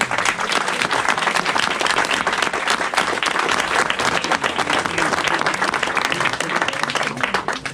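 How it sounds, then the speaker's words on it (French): A crowd at a village bread festival applauds a former baker, dense steady clapping filling the whole stretch at close range with loud, even intensity. "Donc je vous demande de venir applaudir tous."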